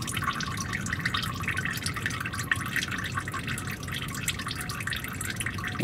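Engine oil drains from a Ford Excursion V10 into a pan, a close, steady trickling stream with a fine dripping texture and no voices.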